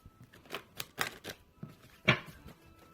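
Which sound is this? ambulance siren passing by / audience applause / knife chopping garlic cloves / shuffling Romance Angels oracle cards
shuffling Romance Angels oracle cards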